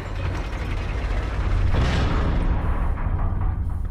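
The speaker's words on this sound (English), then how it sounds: "Look, there is a lever. It releases the ladder." A lever releasing a ladder in the video game Metro Last Light, heard as a loud mechanical ratcheting clank with a creaking surge near the middle, over steady game rumble and no voices.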